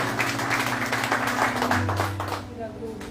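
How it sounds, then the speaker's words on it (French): Church congregation applauding the Lord during a French-language sermon, a steady wash of clapping with a low hum and murmuring voices underneath. "Un applaudissement pour le Seigneur."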